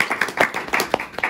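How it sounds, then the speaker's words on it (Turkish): A handful of quick, scattered hand claps from a small group at a pottery vase demonstration, just after the piece is lifted free of the wheel with string; close and brief. "Kaldırınca alkışlıyoruz."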